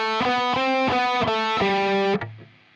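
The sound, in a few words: distorted electric guitar playing a solo run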